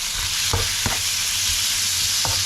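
Vegetables with a turkey filling sizzle and fry in a pan, a constant hiss broken by a few short scraping stirs, close and without speech.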